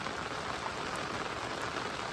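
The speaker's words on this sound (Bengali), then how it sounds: "দেখতে দেখতে বৃষ্টি শুরু হয়ে গেল" Steady rain pours down outdoors during a fishing outing, a dense, even hiss of drops on surfaces that holds constant throughout with no voices.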